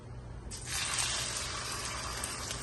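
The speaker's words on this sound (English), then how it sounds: "I love that sound of frying." Okra drops into hot oil and a bright, crackling sizzle erupts, then holds as a steady frying hiss close by.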